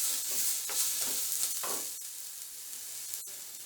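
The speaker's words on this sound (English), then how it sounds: "I'm going to fry it till the smell goes away" Minced garlic, about three cloves, sizzles and fries steadily in a pan, a close, continuous crackle with a few brief stirring scrapes along the way.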